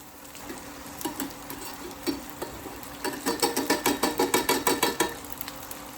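Grubs deep frying in hot fat on low heat: a soft continuous sizzle broken by crisp crackling pops, which grow into a rapid burst of sharp spitting crackles in the middle before easing off.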